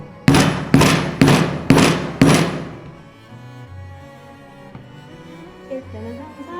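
A chisel is struck with a hammer to punch stitching holes in leather: five sharp, loud blows in an even rhythm, each ringing briefly, then quiet handling sounds.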